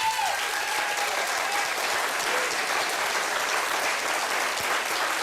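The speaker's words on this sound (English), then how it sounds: "Obviously, by the clapping of the crowd," Steady applause from a large crowd at an ArtPrize awards event, dense and even throughout, with a faint tone fading out at the very start.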